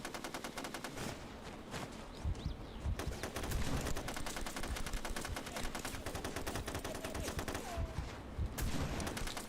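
Sustained automatic gunfire from the SOCOM Combined Assault video game, dense overlapping bursts and rattling fusillades running throughout at a steady, fairly loud level with no talk.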